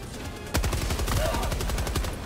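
Rapid automatic gunfire rattles nonstop while fighting robots in Helldivers 2, a dense burst of loud shots starting abruptly and continuing to the end.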